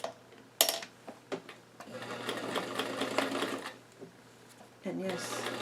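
A sewing machine stitches doll dress fabric in short slow bursts, with a whirring hum and rapid needle clatter between pauses and a soft voice speaking quietly nearby.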